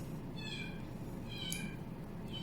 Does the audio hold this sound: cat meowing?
yes